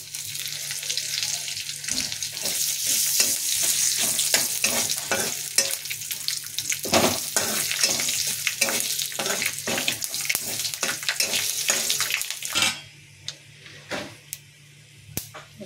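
A bay leaf frying in hot white cooking oil for a Bengali vegetarian cauliflower dish, a loud steady sizzle with rapid stirring clicks that suddenly drops to a quieter crackle near the end.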